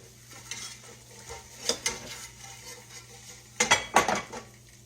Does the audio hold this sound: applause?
no